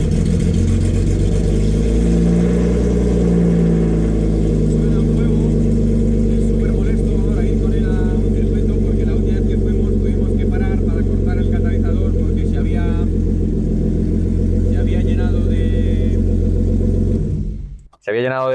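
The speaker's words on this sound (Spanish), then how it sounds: "va a sonar porque el coche no lleva ni escape ni catalizador" A BMW E36 drift project car with no exhaust or catalytic converter, open from the headers back, rumbles loud and close with a deep, steady idle and some revving, under people talking, before cutting off abruptly.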